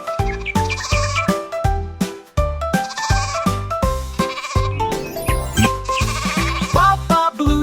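Repeated rhythmic sheep bleats ring out in a children's nursery rhyme song, loud and close, arriving in quick regular bursts over the musical backing.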